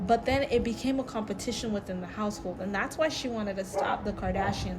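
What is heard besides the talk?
No everyday noise stands out behind the speech.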